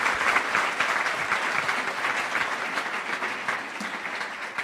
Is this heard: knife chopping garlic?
no